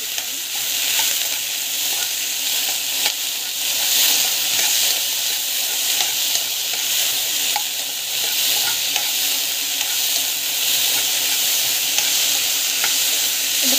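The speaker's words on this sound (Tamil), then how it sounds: "ஆயில் போட்டுட்டு நல்லா வந்து கொஞ்ச நேரம் வந்து வதக்கணும்" Okra stir-frying in oil in a pan gives a steady, close sizzle with faint stirring scrapes, continuous and even throughout, with no voices.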